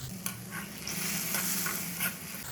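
A spoon stirs moong dal halwa cooked in ghee in a pan after water is added, giving steady scraping and soft sizzling strokes that rise and fall in a close, continuous rhythm with no voices.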